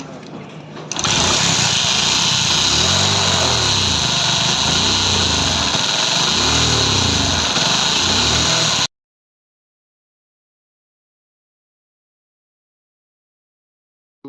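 A Hero Splendor motorcycle with a pickup problem and two washers fitted inside starts up, then runs loud and steady with a rough buzzing drone at close range for several seconds before it cuts to silence.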